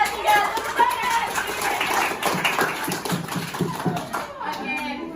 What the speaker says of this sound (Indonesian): Ayo coba kita tepuk tangan ya, Bu. 1, 2, 3, tepuk tangan.